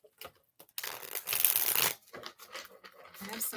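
Tarot cards being shuffled close up, a burst of papery riffling and crinkling lasting about a second amid a few soft handling rustles.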